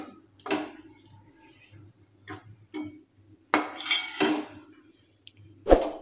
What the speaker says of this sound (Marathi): एक चमचाभर तूप टाकलं की अजून याला हलवत राहायचं आहे।